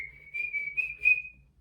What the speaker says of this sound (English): There's a cardinal outside whistling.